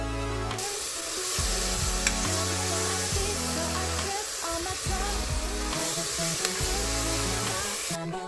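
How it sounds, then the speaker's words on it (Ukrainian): Steady frying sizzle of carrots and onions in oil in a multicooker fills the clip, a dense hiss running continuously, with background music playing loudly over it throughout. "Мультиварку наливаємо олійку, морква, цибуля і ставимо режим смажити."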